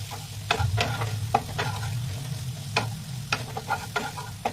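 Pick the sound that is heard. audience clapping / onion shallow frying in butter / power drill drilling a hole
onion shallow frying in butter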